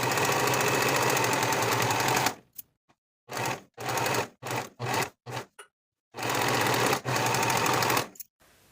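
A sewing machine finishes the side and shoulder seam allowances of a summer button-up shirt: a long steady run of stitching, a string of short stop-start bursts, then another sustained run, loud and close.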